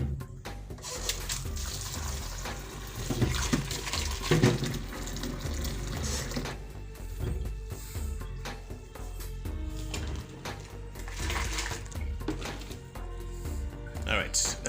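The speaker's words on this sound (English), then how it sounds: "I have to rinse that in." Running water splashing into a bucket as it is rinsed out outdoors near a pond, a continuous gushing flow with clattering handling noises, while a person talks intermittently over it.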